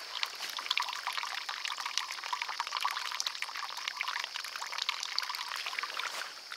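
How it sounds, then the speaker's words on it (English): Filtered water pours out of a glass in a steady, splashing stream that trickles on for several seconds, close and alone. "Pour this water out of this glass so you can kind of see it."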